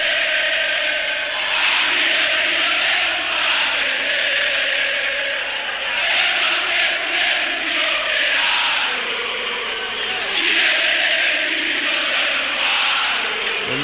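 Vasco supporters in a stadium crowd chanting their war cry, a broad roaring mass of voices that swells and dips steadily, distant and sustained without pause.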